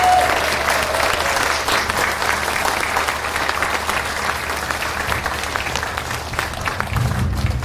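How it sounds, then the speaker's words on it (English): A big round of applause at a grand opening celebration, a crowd clapping loudly and continuously, easing slightly near the end as a low murmur comes in. "let's give another big round of applause for everyone"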